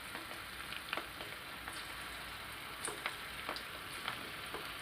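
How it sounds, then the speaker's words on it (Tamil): Cauliflower pieces fry in hot oil with a soft, even sizzle and faint crackles, fairly quiet and steady throughout with no voices. "இப்போ எண்ணெய் நல்லா காஞ்சிடுச்சு. ஸோ இதை நம்ம அப்படியே போட போகிறோம்."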